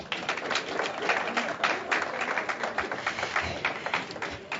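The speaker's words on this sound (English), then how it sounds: "Let's give him another round of applause." An audience at a STEM presentation gives a speaker a round of applause, a continuous wash of clapping at moderate level, fairly distant, with faint voices mixed in.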